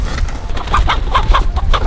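Chickens clucking close by, a series of short, sharp clucks repeating unevenly over a low outdoor rumble.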